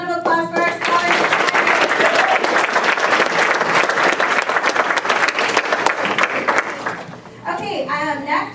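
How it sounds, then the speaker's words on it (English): A large crowd applauds loudly and steadily for several seconds at a school senior luncheon, then the clapping dies away as a voice begins talking. "One more round of applause for our scholars."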